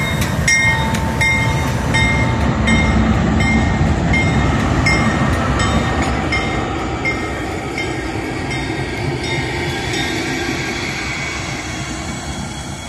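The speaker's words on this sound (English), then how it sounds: "Eleven R making up its train in Ayer, Massachusetts." A Norfolk Southern locomotive running light at Ayer station in Massachusetts gives a loud, close, steady diesel rumble with rhythmic wheel clatter on the rails, fading slightly as it passes.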